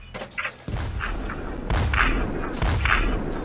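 Cannon fire in a Roblox pirate tycoon game: a series of four or five booming, thudding shots at a steady pace, loud and close, standing alone without talk.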